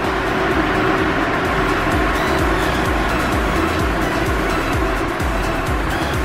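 Stock engine of a supercharged BMW M5 pushed hard on a dyno, a loud, steady, high-revving roar with whine held throughout at close range, no talk.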